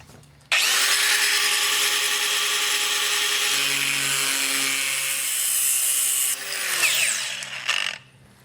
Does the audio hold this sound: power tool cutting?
yes